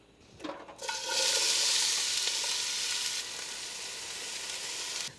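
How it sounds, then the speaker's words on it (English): Chopped jalapeno and bell peppers hit a hot pot for a beef and bean chili, bursting into a bright, loud sizzle after a brief clatter, then easing to a steady, slightly softer hiss that continues to the end. "So I'm gonna add those to the pot now."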